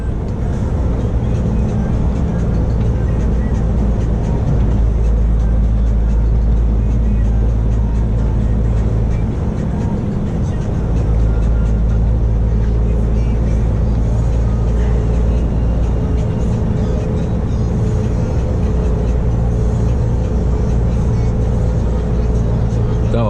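A car cruises along the N7 highway in France near Moulins toward Nevers, giving a steady, loud, unbroken drone of engine and road noise from inside the vehicle, with a voice talking over it.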